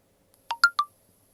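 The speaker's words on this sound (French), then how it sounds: "j'ai le téléphone qui fait des petits bruits, d'avoir des petites notifications" Three short electronic phone tones in quick succession, crisp and close, alone in an otherwise quiet room.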